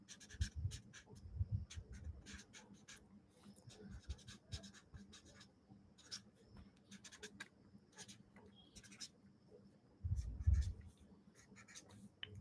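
A pencil sketches UI wireframes on paper, giving quiet, close, scratchy strokes in quick irregular bursts, with a louder scrubbing passage near the end.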